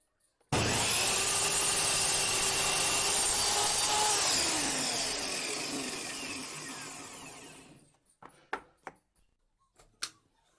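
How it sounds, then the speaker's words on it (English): A miter saw slices through a wooden block, a loud sustained whine and rasping cut of about seven seconds that slowly fades as the blade spins down, followed by a few sharp clicks and knocks. "Now I shall cut the block on miter saw."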